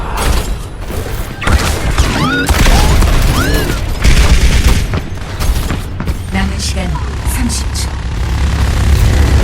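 Weapon fire from the Overwatch video game comes as loud bursts and booms mixed with whooshing game effects, under excited voices of two players talking throughout.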